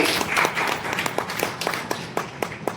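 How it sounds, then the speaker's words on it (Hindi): Audience applause breaks out for camp organisers at an arts and culture camp at Mount Abu, a brisk run of hand claps repeating at a steady rhythm, close and fairly loud, with no talking. "जोरदार तालियां हो जाए इनके लिए।"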